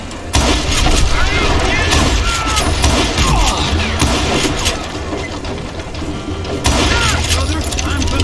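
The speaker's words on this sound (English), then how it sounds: "Shots!" Gunfire and booming in a Call of Juarez Western shootout, loud, dense and continuous close-range shots with rumbling low end, dipping briefly before a fresh burst, voices mixed into the din.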